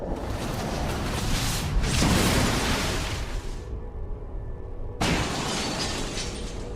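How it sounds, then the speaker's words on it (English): Explosions in the video game XCOM 2: a loud, dense blast with shattering debris that rumbles for several seconds, cuts out, then a second heavy burst follows. "The next explosion goes off."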